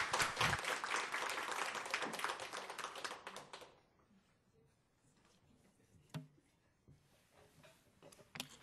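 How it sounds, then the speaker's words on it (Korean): An audience at a corporate book concert applauds. The clapping is dense and fairly close for about three and a half seconds, then dies away into near silence broken by a few faint taps. "큰 박수 부탁드리겠습니다."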